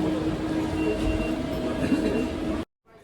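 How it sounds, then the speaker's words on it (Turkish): A city tram in Halle, Germany, rumbles and clatters loudly and steadily close by, its rail noise running continuously before cutting off abruptly near the end. "Şimdi tramvayı bekliyoruz"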